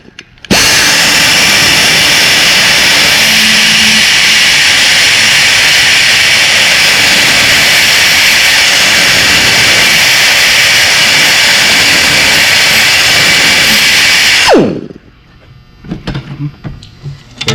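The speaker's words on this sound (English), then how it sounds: "we're gonna have to scuff this up with a die grinder so you can see it" Die grinder scuffing an ink mark off the transmission pan of a 2014–2017 Jeep Patriot with a CVT, a loud, steady high-pitched whine held for about fourteen seconds before spinning down, followed by faint clatter.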